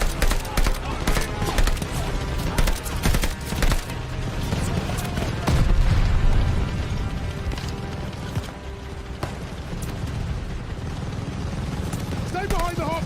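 Dense gunfire rattles nearly nonstop through a Call of Duty Vanguard battle, with machine-gun bursts, rifle shots and rumbling vehicle noise, loud and close, while soldiers shout over it.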